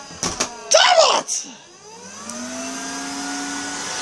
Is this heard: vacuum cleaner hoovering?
yes